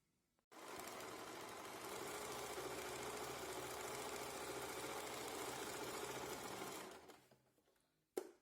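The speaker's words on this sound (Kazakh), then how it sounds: "Және осылай тігінен тігіп шығамыз." A sewing machine stitches a pocket onto fabric, running as one steady, close mechanical whir for about six seconds before winding down to a stop, with no voices.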